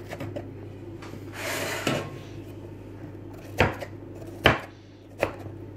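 Potatoes are cut on a board with a small shaped blade. After a soft scraping swish, three distinct, fairly loud chops land about a second apart in a quiet kitchen.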